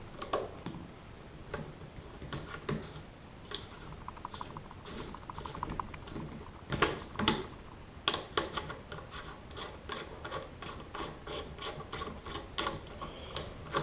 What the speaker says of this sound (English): Tighten your castle nut back down.